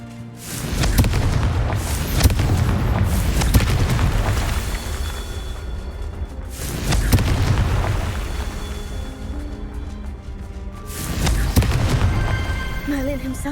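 Confringo explosive spell blasts in Hogwarts Legacy: three booming explosions a few seconds apart, each a loud rumbling blast that decays into crackling debris and roar, with game music and effects between them.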